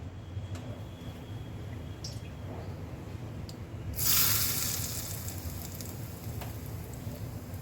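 Hot oil from a wok poured into mung dal pakora batter gives a sudden sizzling hiss partway through, swelling briefly and then easing back into a low, steady background.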